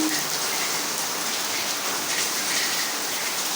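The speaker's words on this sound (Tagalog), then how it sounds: "Ay, ang lakas ng ulan, guys." Heavy rain in Makati pours steadily in a dense, constant hiss, close and loud with no pauses.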